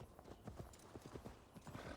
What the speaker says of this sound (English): I get my horse.